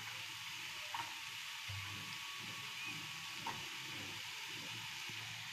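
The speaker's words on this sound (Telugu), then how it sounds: "క్యారెట్ వేగింది, బీన్స్ కూడా యాడ్ చేసుకుంటున్నాను దీంట్లో." Carrots and beans fry in a pan with a steady, soft sizzle and hiss throughout, broken by faint stirring clinks and scrapes, with no talking.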